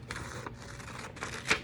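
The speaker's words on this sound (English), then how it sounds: "So let's grab our scissors, and we're going to cut" Scissors cut paper rectangles in a few short, crisp snips with brief gaps between them, close and fairly quiet.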